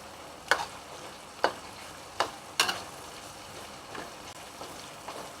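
Lemongrass fries and gets stirred in a pan, with a steady sizzle under several sharp scraping strokes that come at irregular intervals, close and fairly loud, and no one talking.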